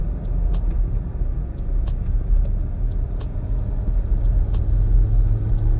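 Steady low road rumble inside a Jeep cruising on town streets, with a continuous engine and tire drone and occasional faint ticks, no air conditioning running and no talking.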